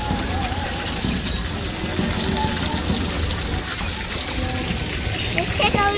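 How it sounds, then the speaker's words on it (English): Water fountain at the Cozumel cruise port splashing in a constant broadband hiss. Voices and background chatter are heard throughout. "Check out the fountain."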